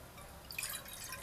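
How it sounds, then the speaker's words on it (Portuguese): Water poured into a cooking pot over the lit stove while making Brazilian cheese bread from Minas Gerais; a soft, continuous close pour with splashy trickling that builds about halfway through. "os 300 ml de água."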